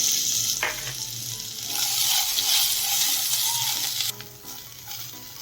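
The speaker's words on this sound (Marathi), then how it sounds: "काजू बदाम आणि खोबरं आहे ही कट करून घेतलेलं आहे ती थोडंसं त्यामध्ये फ्राय करून घ्यायचं आहे" Cashews, almonds and coconut crackle and sizzle in hot ghee, a steady bubbling fry with occasional stirring scrapes, close up and without talk.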